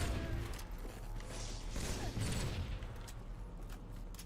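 A grenade explodes in a Halo MCC multiplayer match, giving a loud, sustained noisy blast with rumble that carries on through scattered gunfire-like crackle for several seconds.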